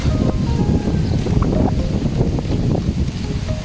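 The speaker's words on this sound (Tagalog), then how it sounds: "Sobrang hangin. Mahangin na mahangin." Loud, constant wind roars against the microphone by a rough sea in Mindanao, Philippines, with faint surf and rumbling underneath and no speech.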